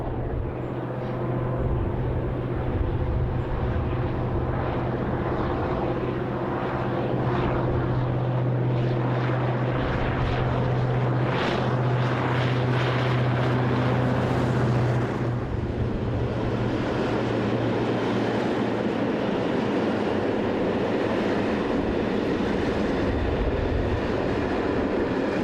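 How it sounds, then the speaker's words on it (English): Locomotive 319302 rumbles past hauling a train of chemical tank wagons, a loud, sustained roar with a low engine drone that swells and then fades into rolling wheel noise as the wagons follow. "319302, heads by at 1:30 with a trainload of chemical tanks"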